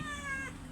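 Pet cats meow for treats indoors on a rainy day, one clear drawn-out meow standing out over low background noise in a short burst.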